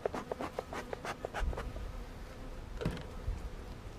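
Honeybees buzz around an open backyard hive during a spring inspection after smoking, with a steady close drone broken by short bursts of individual bees passing near.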